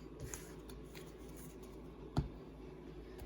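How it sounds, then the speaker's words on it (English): Yu-Gi-Oh! playing cards being shuffled by hand close by, a quiet continuous riffling and rustling with one sharper tap partway through, no talking. "and shuffle up again"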